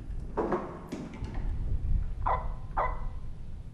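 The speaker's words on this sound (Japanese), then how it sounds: "え、犬鳴いてね。" A dog barks in a horror video game, a few short, faint yips spaced apart over a low murky background, heard alone without talk.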